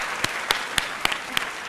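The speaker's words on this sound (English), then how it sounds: "Could I indulge the audience and just ask for a round of applause for Zeba's mum?" A debate audience claps a round of applause for a participant's mother, broadband clapping throughout with sharp periodic claps standing out, steady and moderately loud with no talk.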